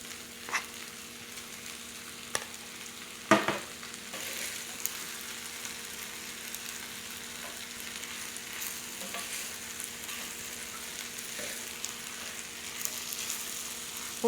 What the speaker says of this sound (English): I really like using skillets when I make some kind of fried rice because it gets crusty on the bottom.